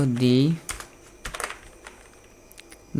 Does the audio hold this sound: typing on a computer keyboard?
yes